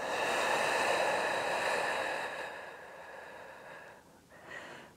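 A long, forceful exhale during a standing pelvic floor exercise, a loud breathy rush that fades over several seconds before a brief softer breath near the end; no talking.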